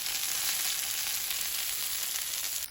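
Sauce-covered pambazo bread sizzles steadily in a hot pan, a close, even frying hiss that holds at constant loudness throughout with no voices.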